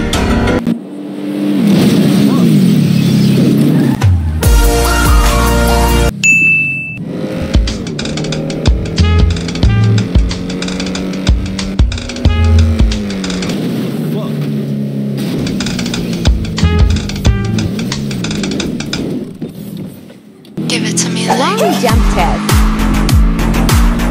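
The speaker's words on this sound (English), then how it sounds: "Wall crash test." A Bugatti Chiron in GTA 5 roars at full throttle, tyres squealing, then slams into a wall with a burst of crunching impact noise. The engine keeps revving loudly afterwards, with abrupt cuts between takes.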